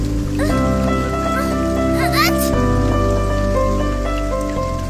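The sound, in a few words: heavy rain falling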